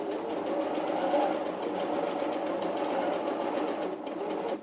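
A sewing machine fitted with a quarter-inch foot runs steadily, stitching fabric in one continuous, even whir that stays close and fairly loud throughout, with no speech over it.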